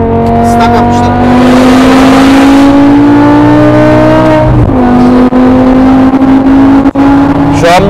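A BMW E60 M5 with its V10 engine revs hard while accelerating, the loud rising howl climbing through gears, dipping at a shift and pulling again, heard up close from inside.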